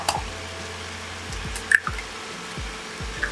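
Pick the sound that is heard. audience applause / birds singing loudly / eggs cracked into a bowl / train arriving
eggs cracked into a bowl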